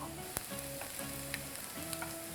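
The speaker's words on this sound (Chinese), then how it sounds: "就是中小火慢慢去煎它，先不要动它，让它定型啊" Shrimp patty pan-frying over medium-low heat, a steady soft sizzle with a few faint clicks and scrapes from the pan, heard close and alone.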